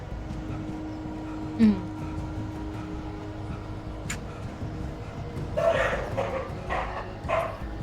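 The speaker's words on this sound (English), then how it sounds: "There go my dogs again." Real dogs barking in a room, picked up while the game Alan Wake plays in the background: a few scattered barks and yips over low game sound, some close and some muffled.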